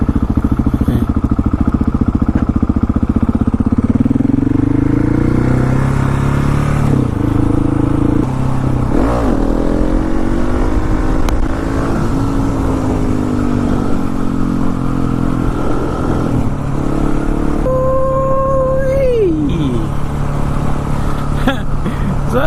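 A motorcycle ridden hard for wheelies, its engine droning loud and continuous close by, with rising and falling revs and one sharp climbing rev near the end, wind noise throughout.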